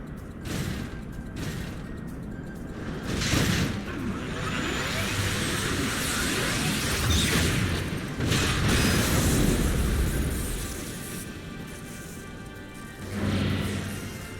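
Cannon fire and explosions in the Final Fantasy XIV battle, a dense roaring rumble with repeated booming blasts and whooshes, loud and continuous throughout.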